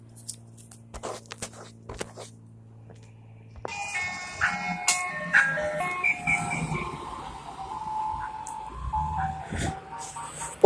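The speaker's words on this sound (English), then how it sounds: "be quiet, ice cream truck!" Ice cream truck jingle in the Roblox video game, a bright electronic melody that kicks in suddenly and plays loud and continuous with busy game noises and clicks, after a quieter stretch of sparse taps and hum.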